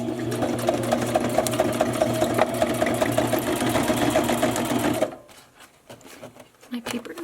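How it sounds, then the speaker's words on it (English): A sewing machine stitches through punched paper strips, a loud steady whir of rapid needle strokes that runs for about five seconds and then stops, leaving faint handling noises. "Foot down and start stitching."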